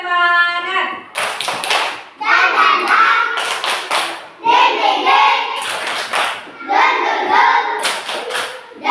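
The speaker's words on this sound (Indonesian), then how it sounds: "Tepuk semangat." A group of children and a teacher do the tepuk semangat spirit clap, chanting together while sharp rhythmic hand claps land in patterned bursts. Voices carry the rhythm between the clap groups.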